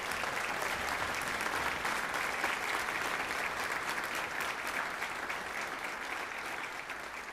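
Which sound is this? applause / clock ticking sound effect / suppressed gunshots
applause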